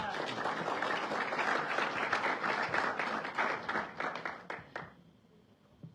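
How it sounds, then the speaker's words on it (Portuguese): Audience applause at an Angolan political event greets a UNITA deputy and youth secretary, a dense crowd clapping for about four seconds before it thins into a few scattered claps and fades out. "Uma salva de palmas aqui para o deputado."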